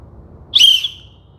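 A single sharp whistle used as a news sound effect, rising quickly and then holding a steady high tone for about a quarter second before fading. Soft low hum sits underneath, with no talking.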